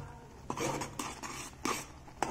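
A utensil stirs oats with milk and jaggery in a pan, giving several distinct clinks and scrapes against the metal, spaced irregularly with no voices.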